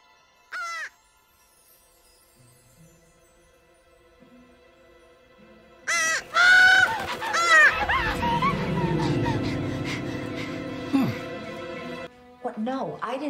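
Harsh crow caws ring out in a scene from The X-Files episode 'Chimera', with a short call early on. Then comes a loud cluster of caws, mixed with speech and other scene sounds.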